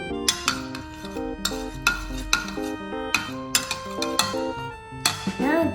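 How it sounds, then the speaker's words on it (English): A big spoon stirs corn with ground black pepper in a bowl, producing repeated close scraping clinks and knocks at an irregular rhythm against a faint background of music. "Then let's mix with a big spoon."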